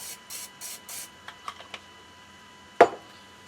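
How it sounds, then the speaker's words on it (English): Four short hissing bursts of cooking oil spray onto bread in quick succession, followed by a few light taps and one sharp clatter. "And then we'll spray it with a little bit of Pam"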